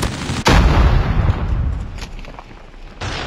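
Loud gunfire in Call of Duty: a heavy burst of shots that begins abruptly, then a dense roaring volley that slowly fades before another blast near the end, close and dominant, with no voices.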